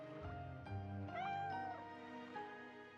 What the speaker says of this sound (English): Hey, you're that cat.